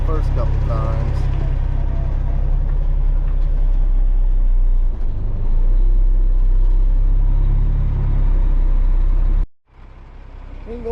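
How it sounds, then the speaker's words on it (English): A roller compacting dirt on a 150x50 pole barn building pad, a heavy continuous low engine drone with rumbling vibration, loud and close, briefly dropping out near the end. "Let's get on our roller here and roll that in."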